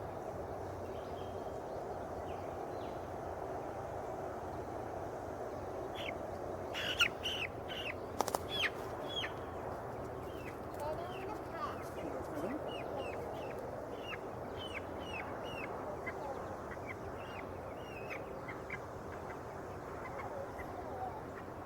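Meat chickens about three weeks old cluck and chatter in a series of short calls over steady outdoor background noise, moderately distant.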